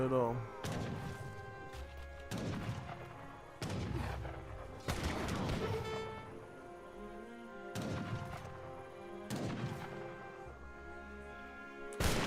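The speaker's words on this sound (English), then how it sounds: "good shot for the muskets" Musket volleys in Age of Empires 3 battle game audio, with several loud sharp gunfire bursts crackling at irregular intervals amid game sounds and a commentator talking.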